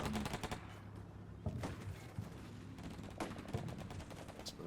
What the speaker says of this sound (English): not worried about the machine gun, small arms fire on the tanks